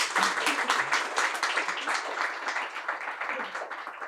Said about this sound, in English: a little in-between applause